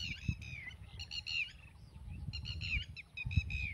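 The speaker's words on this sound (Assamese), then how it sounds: "কিমান চৰাই চিৰিকটি চিঞৰি আছে, কিমান ধুনীয়া লাগিছে।" Many birds chirp and call together in an open village field, a dense overlapping chorus of high tweets throughout, over a low rumbling background.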